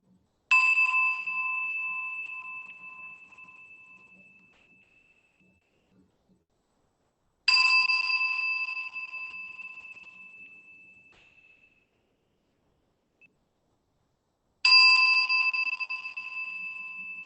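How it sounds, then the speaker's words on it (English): A mindfulness bell is struck three times at slow, even intervals, each clear ring sounding alone and fading away gradually into silence before the next. "I'll be ringing the bell 3 times and invite you to simply receive the sound without reaching for it."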